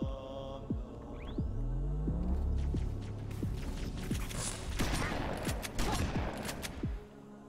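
Shotgun blasts from the rebalanced weapon in Halo 2 (Ruby's Rebalanced Mod), several sharp booming reports spread across the clip over a steady game hum and mechanical throb, with a voice talking in places.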